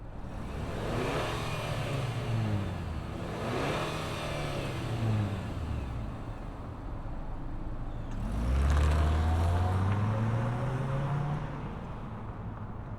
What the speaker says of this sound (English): let's fire it up and see this Sentra spin